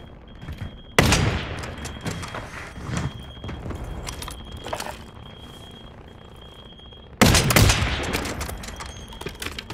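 Video game shootout gunfire, two sharp loud bursts of shots a few seconds apart with a rattling volley between, alongside hoof-like clatter; little talk.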